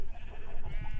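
Sheep bleating in Minecraft, a single wavering, nasal bleat lasting about a second, close and clear.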